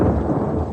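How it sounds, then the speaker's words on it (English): Thunder from an approaching storm, a loud, deep, continuous rumble filling the brief moment, heard alone without any voices. "There's a storm coming."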